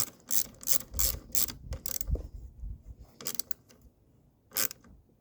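A ratchet snugs down a 10 mm battery terminal nut on a Land Rover Discovery Sport, giving several short bursts of close, crisp clicking separated by brief pauses, with no talk.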